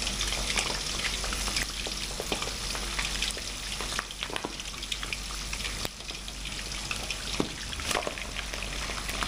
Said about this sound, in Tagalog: So, fry na natin siya.